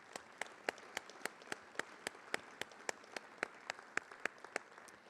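Faint, evenly paced clapping at a Governor's Agriculture Summit, a steady beat of crisp individual claps about four per second, sounding like only a few hands, with no voices.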